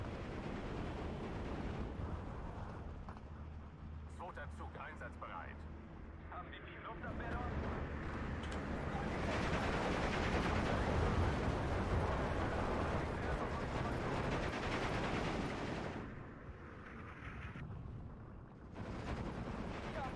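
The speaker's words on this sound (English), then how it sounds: "I wonder how good these Ju-88s are at strafing." Ju-88 aircraft on a strafing run in the Steel Division 2 war game: a dense, continuous roar of gunfire, explosions and rumbling that swells and fades, loud and close, with a voice talking over it at times.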